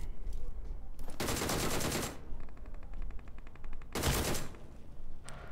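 Gunfire in the BGMI mobile game as a player shoots a bot: two loud, close bursts of rapid automatic shots, with quieter clicks and rattles between them.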